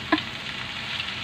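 Beef papaitan being stirred in a pot, a single short scrape of the spoon early on over a steady low simmering hiss, close and moderately quiet.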